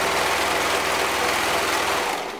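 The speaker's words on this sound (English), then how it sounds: "I'm gonna stretch lightly and then sew." A sewing machine stitches the neckband onto a sweater, its motor running as a steady, loud, close whir with a fine rapid needle pulse before it slows at the end.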